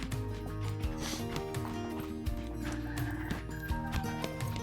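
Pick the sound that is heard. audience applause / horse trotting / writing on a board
horse trotting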